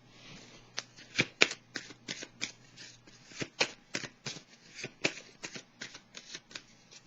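Small tarot cards shuffled close by in a quiet room: a rapid, fairly regular series of crisp card slaps and flicks, fairly soft overall.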